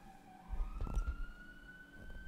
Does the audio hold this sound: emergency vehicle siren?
yes